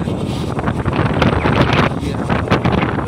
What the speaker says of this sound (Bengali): সমুদ্রতে এমন ঢেউ হচ্ছে কোনো মতেই চালাতেই পারছে না, এত সমুদ্রতে ঢেউ হচ্ছে।